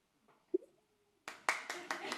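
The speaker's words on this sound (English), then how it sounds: "Give us a big winning trophy cheer" An awards ceremony audience bursts into cheering and applause for a trophy winner, a sudden loud roar of voices and clapping after a brief quiet moment with a short vocal sound.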